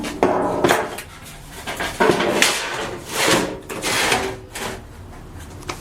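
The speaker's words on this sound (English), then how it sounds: "I'm going to bolt them together to make like a platform." Metal grill shelves being handled and bolted together for a camp stove, irregular clanks, scrapes and rattles of metal close by, with no talking.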